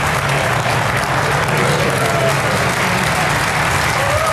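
Spectators at the 2023 English Open golf tournament applaud a shot with steady, broad outdoor clapping and crowd noise, continuous and fairly loud throughout.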